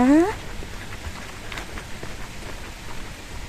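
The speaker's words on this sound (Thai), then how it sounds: "ฝนตกหนักมาใหญ่แล้วค่ะ" Steady, dense hiss of heavy rain falling throughout, with a brief tonal chirp at the start.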